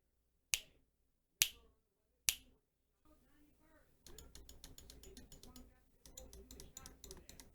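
Clicks from a Logitech G703 Lightspeed wireless gaming mouse, recorded close in a quiet room: three sharp, separate clicks spaced about a second apart, then fast bursts of rapid clicking.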